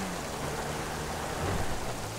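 Steady hiss of rainfall with a soft low rumble, continuous and even, like rain in the game GTA V, without any voices.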